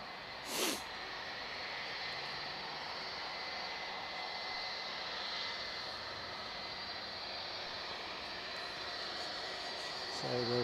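A Boeing 757 airliner roars steadily at Edinburgh Airport, a broad sustained engine rush from a distance lasting throughout, with brief sharp bursts near the start and end.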